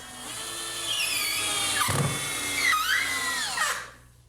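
A power drill drives screws into the halves of a wooden leg for a potting bench, its motor whining loudly and steadily for about four seconds with shifting pitch as each screw seats, then winding down.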